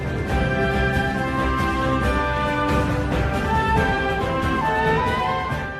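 A level theme from Super Mario Odyssey, a bright, lush orchestral game tune with sustained melodic lines over steady rhythmic accompaniment, playing continuously and fairly loud with no talking.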